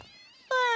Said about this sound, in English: Hey, Laird, wanna adopt a cute little kitty?